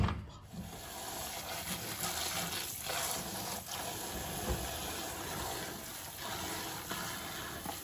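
Tap water rinsing a container lid after cleaning off garlic with Dawn Powerwash dish spray: a steady, fairly quiet hiss of running water with small splashy fluctuations and no speech.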